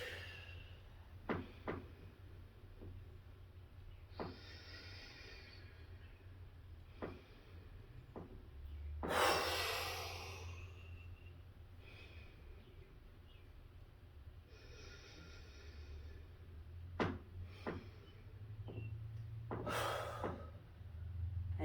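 Deep breaths in a pranayama yoga exercise, a few strong forceful exhales blown out sharply between quieter inhales, spaced several seconds apart over a faint steady background.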